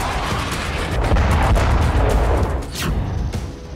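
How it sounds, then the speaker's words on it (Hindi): Heavy artillery cannons firing in a military setting, a dense run of deep booms and blasts rolling over each other at close range, loud and sustained with a sharper crack near the end, no talk. "बारूद बरसाती तोपें,"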